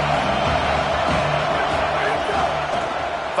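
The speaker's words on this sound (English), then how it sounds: "This crowd bringing an ear-splitting welcome to their visitors." A stadium crowd at a college football game in the CFB 27 video game roars steadily and loudly as a broad sustained wash, with a commentator's voice over it.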